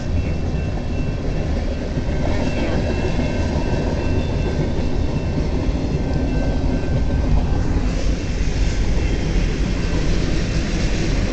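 A long CN eastbound mixed freight train, led by locomotives 2641 and 2614, rolls past at Port Huron, Michigan, with a steady, loud rumble of wagons and faint clickety-clack that carries on without a break.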